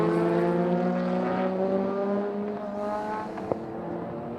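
Heritage Group A and C touring cars, including an RX-7 and a Charger, race at Winton, their engines droning loudly and holding a high pitch. A second car's note fades in partway through, and there is no talk.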